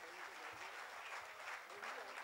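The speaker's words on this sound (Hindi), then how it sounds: "तालियां तो होनी ही चाहिए" Applause from the audience at a Hindi hasya kavi sammelan poetry gathering, a steady wash of clapping at moderate level running through the whole stretch with no pauses.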